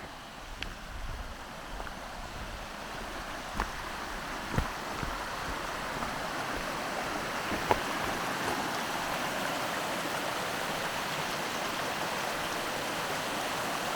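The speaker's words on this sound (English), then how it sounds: "This is New Year's Creek, according to the sign." New Year's Creek in Girdwood, Alaska, flowing with a steady broadband rush of water, constant and close, with a few faint knocks and clicks on top.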